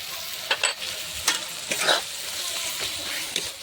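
Tomatoes fry in a cooked spice paste with a soft, constant sizzle, and a few clear scraping stirs of the spatula against the pan stand out above it.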